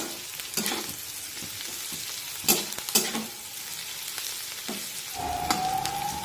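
Thinly sliced onion frying in a pan while being stirred: a constant sizzle broken by several sharp scrapes of a spatula, close by and steady, with no talk.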